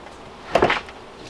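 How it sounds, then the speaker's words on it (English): A smoker box door is pushed shut but fails to latch. It gives a short, close knock-and-rattle of two quick thumps and a faint clatter, with quiet outdoor room tone on either side. "Oh, the door didn't close."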